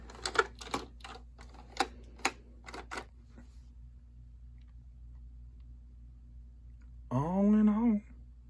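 A Smith Corona WordSmith KA1 typewriter is struck key by key in a slow, irregular series of crisp, close clacks for about three seconds, then falls silent before a brief whirring mechanical sound near the end.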